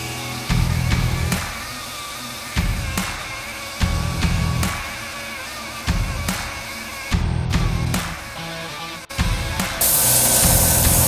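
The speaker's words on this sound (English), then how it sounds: "I'll hit it with the DA" A dual action sander works a VW Mk5 Golf GTI wheel, a loud, gritty whirring that runs in repeated passes of one to two seconds, with brief pauses and a continuous stretch at the end, and no talk.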